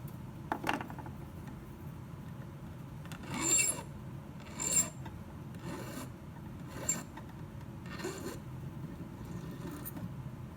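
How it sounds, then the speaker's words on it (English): A hand file rasps across the trimmed end of a piece of rivet wire in several separate short strokes, close and fairly quiet, with no talk. "Trim and file the end of the wire as you would with standard rivets."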